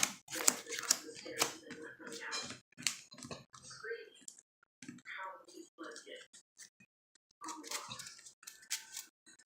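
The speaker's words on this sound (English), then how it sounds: "now we're shuffling this up" Crisp riffling and flicking of playing cards in quick bursts, close by, interleaved with someone talking quietly.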